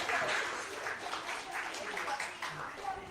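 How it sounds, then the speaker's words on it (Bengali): Audience applause at a Bengali birthday celebration and quiz event at IACS, Kolkata: dense, steady clapping fills the whole stretch at moderate loudness, with a faint murmur of voices mixed in. "এখানে একটা জোরে হাততালি"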